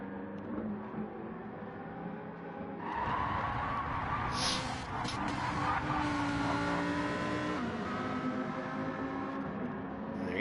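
Lamborghini race car in a racing game at the Red Bull Ring, its engine rising into a loud, raw roar with tire squeal and skidding over the track.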